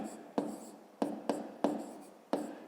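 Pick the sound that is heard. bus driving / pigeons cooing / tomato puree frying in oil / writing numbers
writing numbers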